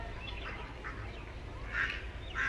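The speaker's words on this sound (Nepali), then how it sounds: "यसो हाँस कुखुरा चलाउँदैछन् तिमीले।" Ducks give a few scattered quacks while ducks and chickens are herded in a village yard on a gloomy day, faint calls early on, then two louder, nearer quacks toward the end.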